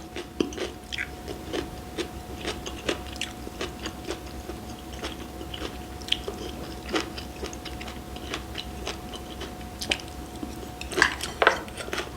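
Steamed flower bread (kkotppang) with spicy beef and pepper japchae being bitten and chewed, giving soft, sporadic close mouth sounds and small clicks over a steady low background hum; no talking.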